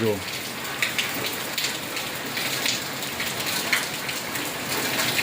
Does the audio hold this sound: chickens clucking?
no